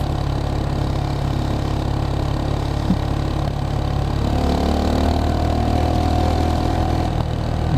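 A Geon X Road light 250 motorcycle rides slowly through city streets, its engine droning steadily and loudly up close, with a slight rise in pitch as it pulls away.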